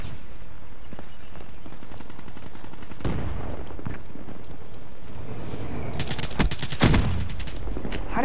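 Rapid gunfire from Call of Duty Black Ops III multiplayer: bursts of automatic shots with heavier loud volleys near the end, close and dense over continuous game noise.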